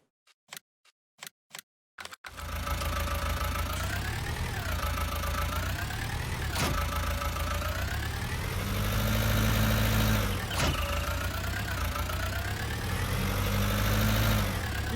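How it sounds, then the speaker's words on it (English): A yard tractor engine idles steadily in Farming Simulator 19, a continuous low mechanical drone after a few sharp clicks at the start, with the pitch dipping and rising slightly a couple of times. "Good little yard tractor, very tight turning radius it appears."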